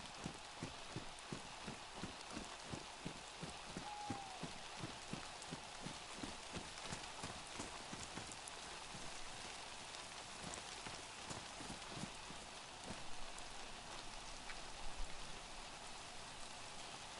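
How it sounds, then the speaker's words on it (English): Rain falling in DayZ, a steady faint patter of drops with a regular rhythmic tapping running underneath, heard alone with no talk. "No, I can't. It's raining."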